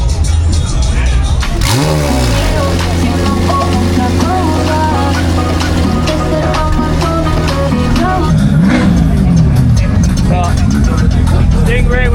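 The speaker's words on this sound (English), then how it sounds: "Stingray with an exhaust on it." Corvette Stingray fitted with an aftermarket exhaust revs hard and close, a sharp sweeping rise near the start, then a steady loud drone with further blips and a climb near the end, set among the noise of a busy car meet with people talking.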